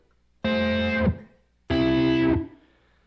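Clean guitar filtered through an Enzo synth pedal plays two separate sustained notes, each cut off sharply after about half a second to a second, with silence between, close and loud.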